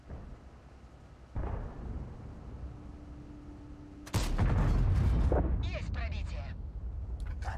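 Tank guns in the World of Tanks video game fire in two booming shots, one muffled and mid-distance, the second louder and sharper, followed by rumbling debris and game effects over steady background noise.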